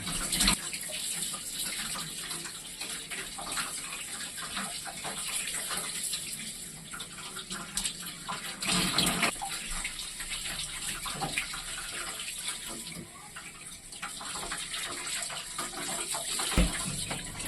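Fesikh, salted fish, rinsed under a running tap, a continuous close splash of water in a sink with small shifts as the fish is turned, no voices.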